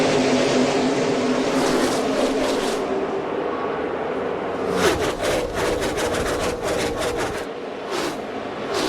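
A pack of NASCAR stock cars in a racing video game roar off at the start, a loud, continuous blend of engines with rising bursts and rapid pulsing as the field accelerates.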